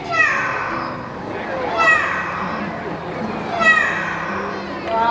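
A trained bird at a bird show in Singapore imitates a cat's meow. It gives three or four strong, drawn-out, descending meow-like calls that repeat at a steady pace, loud and close over a murmuring outdoor crowd.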